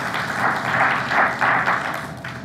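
An audience at an international scientific conference on water breaks into warm applause, dense clapping that swells in several waves over a couple of seconds with no speech over it.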